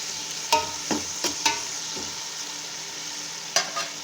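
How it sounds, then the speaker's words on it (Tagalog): Ingredients sautéing with fish sauce for salmon sinigang: a constant hissing sizzle broken by a handful of sharp spatula scrapes and taps against the pan, with no talking. "Magigisa ako ng ganitong sinigang para medyo gumangan siya"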